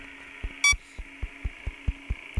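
A regular, low electronic pulsing alarm signalling a broken ventilation system in the video game Five Nights at Freddy's 3, repeating about every fifth of a second over a steady hum, with one sharp high chime near the start.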